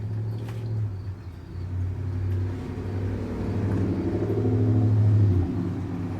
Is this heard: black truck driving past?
yes